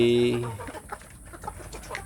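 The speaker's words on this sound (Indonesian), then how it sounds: "Pagi ini saya memberi makan ayam kampung saya sedulur" Free-range village chickens being fed in the morning: one drawn-out tonal call opens, followed by a scatter of short, soft clucks at close range over a quiet background.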